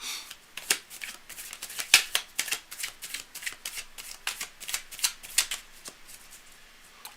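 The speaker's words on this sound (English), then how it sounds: "I'm just going to shuffle up" A deck of tarot cards being shuffled by hand, giving a steady run of crisp riffling and slapping bursts at close range with no talking.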